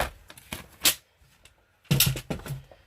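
A paper trimmer cuts through a pink card base, giving a few sharp, close slicing and clicking strokes in two short bursts separated by a brief quiet gap.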